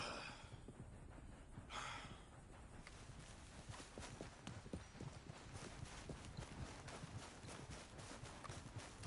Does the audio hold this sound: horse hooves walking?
yes